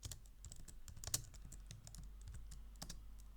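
Python code is typed on a computer keyboard: quiet, rapid, irregular keystrokes close by, with one louder tap standing out, over a low steady room hum and no talking.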